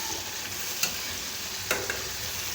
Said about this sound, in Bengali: কালার না আসা পর্যন্ত ভালো করে কষিয়ে নিতে হবে